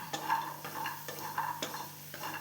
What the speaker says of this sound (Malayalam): ഇനി ഞാൻ ഈ എടുത്ത് വെച്ച ചക്കക്കുരു വറുത്തെടുക്കട്ടെ